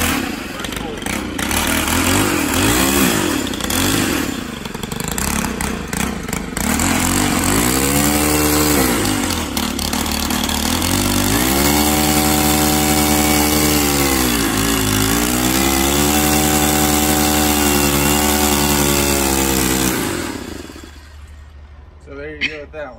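A freshly started Stihl 91R two-stroke string trimmer runs for about twenty seconds, with its engine note rising and dipping in pitch as it warms up and revs, loud and close, before cutting off abruptly.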